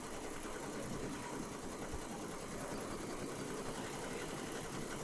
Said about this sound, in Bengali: আর এমব্রয়ডারি মেশিনটা খুব নিমিষেই করে দেয়। এজন্যই আসলে এমব্রয়ডারি মেশিন ব্যবহার করা হয়।